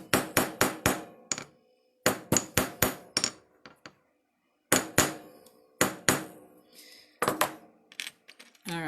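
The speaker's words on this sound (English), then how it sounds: "I would go through and hammer all the links that I've soldered that are ready" Metal hammer repeatedly striking soldered silver bracelet links, close and sharp, in quick bursts of four or five ringing taps separated by short pauses, with a few lighter clinks between.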